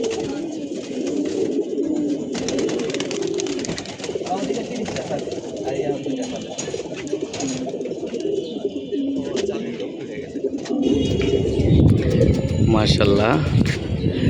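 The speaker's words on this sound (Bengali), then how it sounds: "তো বাচ্চা চালনিটা উড়ুক" A flock of young pigeons, around thirty squabs, coos and flutters close by in a continuous soft chorus while voices talk underneath. The birds grow louder and busier toward the end.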